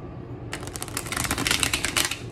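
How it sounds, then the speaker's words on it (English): Druidcraft tarot cards are shuffled by hand in a quick, close run of crisp riffling slaps after a brief quiet start. "It's been the easiest shuffle."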